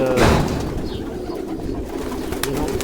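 Pigeons in a loft coo close by in a soft rolling burst near the start, followed by quieter murmuring cooing and faint rustle, with no talking.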